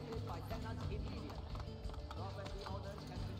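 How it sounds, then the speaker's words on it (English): Quick rhythmic hoofbeats of a horse galloping through a city in the video game Assassin's Creed Brotherhood clatter along under a talking voice and game background sounds. "I can ride horses in cities."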